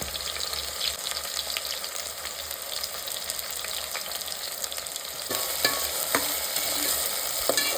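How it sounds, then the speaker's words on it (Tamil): Sliced onions fry in hot oil and are stirred in a pan for a home-style mushroom biryani. A steady sizzle carries throughout, with louder scraping stirs and clatter in the last few seconds and no talking. "வெங்காயம் சேர்க்கும்போது நல்லா உதுத்து சேர்த்துக்கலாம்."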